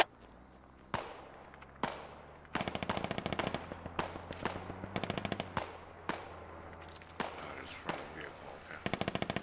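Video game gunfire crackles in repeated rapid bursts, some near and loud, others sharper single shots, spaced through the scene in an irregular rhythm.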